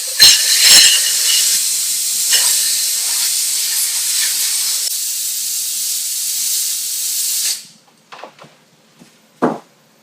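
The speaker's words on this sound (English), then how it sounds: "we'll blow some air through this tube, so every solvent and everything will come out" Compressed air rushes through a laboratory tube to dry out solvent, a loud steady hiss with a few sputters that cuts off abruptly, followed by faint clicks and a short final puff.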